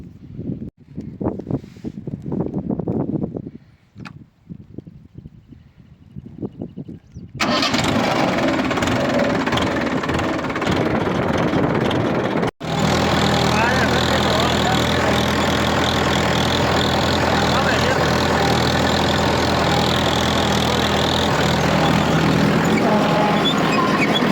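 A farm tractor's diesel engine cranks and catches, then settles into a loud, close, steady rumbling run, with a brief drop in the sound partway through before it carries on evenly.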